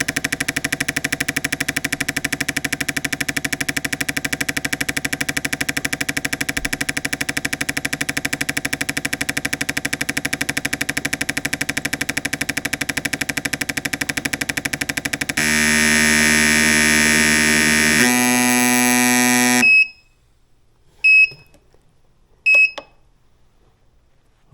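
Fuel injector flow test machine running a test on a budget injector, a loud steady electric drone with pulsing tones that shifts pitch near the end, then cuts off, followed by a few short beeps.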